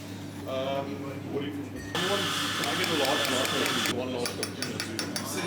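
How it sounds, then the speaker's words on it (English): Background ambience inside a coffee shop: murmuring voices of patrons mix with clattering dishes and cutlery and a steady machine whir, with a bright hissing stretch midway through that suggests an espresso machine. "I also ended up at a coffee shop, which I recorded some background noise with."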